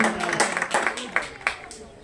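Spectators clap at a youth eight-a-side football match between Escolas Deportivas Chantada and E.D.C. Verín B, a scattered round of several hands with distinct sharp claps, heard outdoors under nearby talking and shouting.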